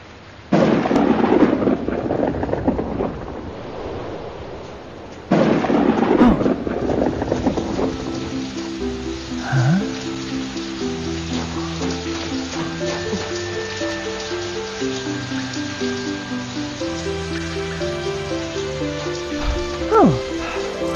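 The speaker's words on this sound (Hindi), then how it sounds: "तभी अचानक बारिश आ गई" Cartoon thunder crashes twice in loud rumbling bursts as sudden rain arrives in an animated Hindi story about a frog, then settles into a softer background of steady tones.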